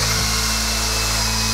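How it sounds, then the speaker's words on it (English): A power drill whirs steadily at close range, drilling pocket holes in wood with a pocket hole jig, a continuous high-pitched mechanical whine with no pauses. "We'll just drill some pocket holes here"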